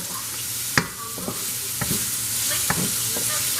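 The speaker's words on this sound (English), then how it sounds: "By doing this, sauteing it like this, it adds flavor to your food" Ginger sautéing in a hot pan, a steady close sizzle with a few sharp clinks and scrapes of a utensil stirring through it.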